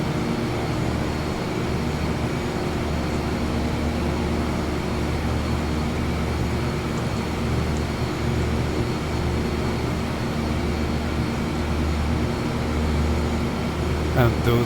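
Twin-turboprop Beech 200 cruising in the MSFS2024 flight simulator, flying from Karlstad to Västerås: a steady, dense engine and propeller drone with constant loudness throughout, no talking.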